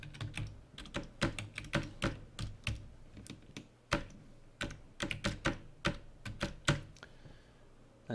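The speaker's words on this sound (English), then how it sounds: "So I'm going to type in my Gmail address." Fingers tap out an email address on a computer keyboard, a quiet run of close, crisp keystrokes in irregular bursts with short pauses, with no talking.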